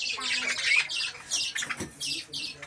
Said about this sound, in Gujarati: એટલું સરસ કબૂતર છે,